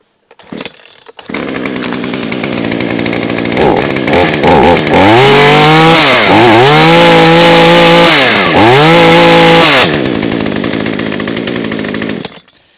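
A cheap Hyundai petrol chainsaw starts and runs loud and close, a steady buzzing roar with a few revs rising and falling for about ten seconds before cutting off.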